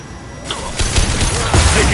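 Gunfire in the video game Mass Effect 2: broadband bursts of shots and impacts that start after a quiet moment and keep up in rough volleys, fairly loud and close.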